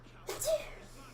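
One short, sharp sneeze bursts out nearby against a quiet background with a low hum.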